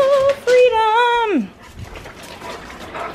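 Dogs whimper and whine outdoors in a long, high, sliding cry that falls away near the mic, followed by softer faint whimpers and light background noise.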